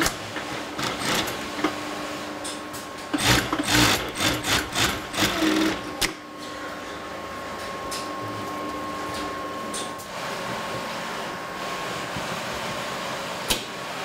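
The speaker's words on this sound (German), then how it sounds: "Da werden die beiden Teile zusammengenäht." An industrial sewing machine stitches two leather shoe upper pieces together in a shoemaker's workshop, running in short bursts of rapid mechanical whirring and clatter with a steady hum behind, and no talk.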